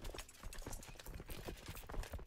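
Horse hooves in Crusader Kings 2 clip-clop in a quick, steady rhythm, faint and continuous throughout with no talk.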